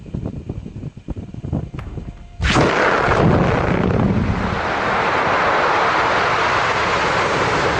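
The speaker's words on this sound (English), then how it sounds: "When an explosion happens underwater, the energy travels through the water and creates pressure waves that can spread across the surface of a lake" An underwater explosion in a lake sets off a sudden loud roaring burst that stays as a sustained broad rumble, with no talk over it.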